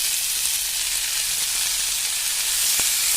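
A leafy vegetable and potato fry in a pan with a loud, continuous sizzle that stays steady throughout, with no voices.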